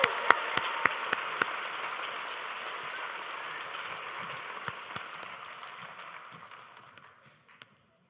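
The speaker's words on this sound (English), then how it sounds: "Everyone, please join me in one more round of applause for our Hodges Scholars." A graduation ceremony audience in Dubai applauds award recipients with a steady, moderately loud patter of clapping that gradually thins and fades to silence near the end.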